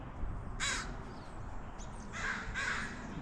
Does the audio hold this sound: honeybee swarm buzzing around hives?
no